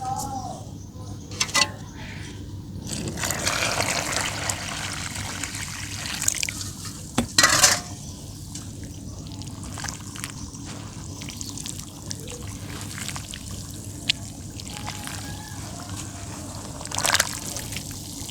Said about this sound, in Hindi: अब इनको थोड़ा पानी डाल देती हैं।